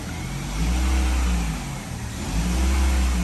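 A car with a GM 6T45 automatic transmission that has failed in reverse revs its engine, a steady low drone with two swells in the throttle. It is close and loud, and nobody speaks.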